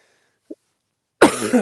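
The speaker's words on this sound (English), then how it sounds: "after I cough" A man on a farm lets out a single harsh, close cough after a moment of near silence and a tiny click.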